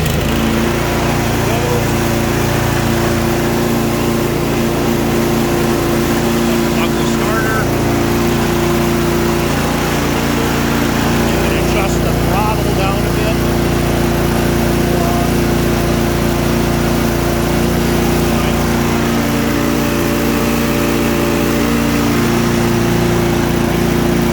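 Small snowblower engine running steadily close by, a loud continuous buzzing drone with little change, while a person talks over it at times.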